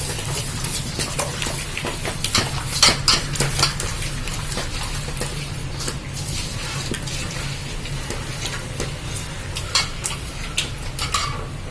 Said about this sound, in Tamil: இந்த தயிரை ஊற்றுறேன்ப்பா. நல்லா கலக்கலாம்.